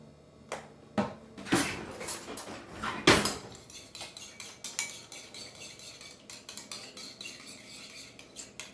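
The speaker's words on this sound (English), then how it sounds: "We're gonna mix that together with the spicy Sriracha sauce." Kewpie mayonnaise being stirred together with spicy Sriracha sauce in a bowl, with a utensil clinking and scraping against the dish in several sharp strikes, then softer steady stirring, close and with no talk.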